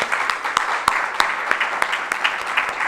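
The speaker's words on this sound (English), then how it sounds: "Let's give her another round of applause." An audience at a leadership seminar applauds after a speaker's address, a moderate crowd clapping with a few sharp, distinct claps standing out from the steady patter.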